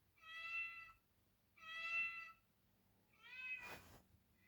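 A cat meows three times at a door, wanting to go out, each call drawn out and fairly close, with brief quiet gaps between them.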